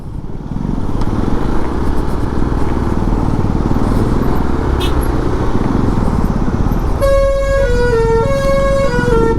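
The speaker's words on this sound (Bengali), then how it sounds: "বাসের হর্নগুলো কঠিন" Bus horn on a rough mountain road in Nepal beside a river, a loud multi-tone musical blare starting near the end over a constant roar of engine and road noise.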